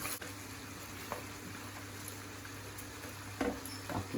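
Cabbage frying in a pan while pancit is cooked, a faint, even sizzle with occasional light stirring clicks, quiet and continuous with no talk.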